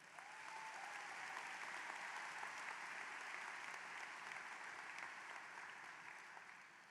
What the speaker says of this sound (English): Please give these Panther parents a round of applause.